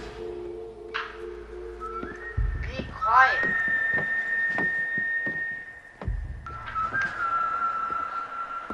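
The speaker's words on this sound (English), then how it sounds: "I kinda have to whistle to that" A person whistles a sustained melody along to Red Dead Redemption game music, with steady held notes over low hums, horse sounds and intermittent thumps, while someone speaks briefly.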